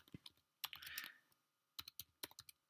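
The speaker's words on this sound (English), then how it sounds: "we just type in equals lookup" Quiet keystrokes on a computer keyboard as a formula is typed, arriving in two short bursts of quick taps with a brief pause between them.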